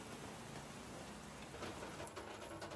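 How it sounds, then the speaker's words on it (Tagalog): Heavy rain pouring outside an outdoor dirty kitchen in Bulacan at the start of the rainy season, a faint, steady hiss of drops drumming on surfaces with no voices. "Dinig na dinig niyo yung lakas ng ulan dito sa aking dirty kitchen."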